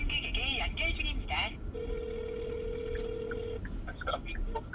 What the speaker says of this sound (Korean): 승객에게 연결 중입니다.